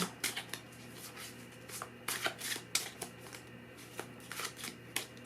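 Oracle cards shuffled for a psychic reading, a run of crisp riffling bursts and soft flutters at close range, irregular in rhythm and with no voices.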